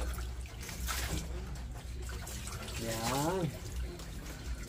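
Water poured from a dipper over a dog being bathed before shampooing, a soft trickling splash running beneath a nearby voice talking throughout.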